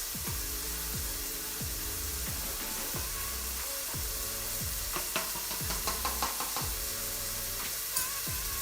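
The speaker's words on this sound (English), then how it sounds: "And now I'm going to add my mixture in the pot" Steady loud sizzling and frying as a sauce mixture is added to a pot of mushrooms, with regular scraping stirring strokes repeating about once a second and a few sharper clicks later on.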